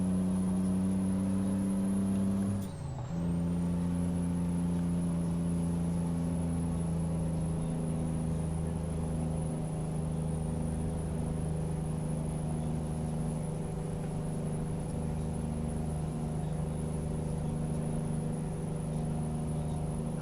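Straight-piped N14 Cummins truck engine on a Jake brake, a steady loud low droning rumble with strong harmonics, dipping briefly as it loops, then continuing unbroken for the rest.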